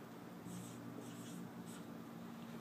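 Pen or marker writing a short inequality, a steady scratchy scribble with a few brief strokes standing out, close up and alone over a constant low room hum.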